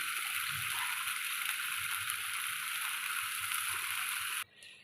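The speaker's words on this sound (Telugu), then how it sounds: "వాటర్ యాడ్ చేసుకున్నాక కొద్దిగా చింత చిగురు బాగా బాయిల్ బాగా ఉడకనివ్వాలి" Water with tamarind leaves simmers in a pan, a soft continuous bubbling hiss that holds evenly before cutting off abruptly near the end.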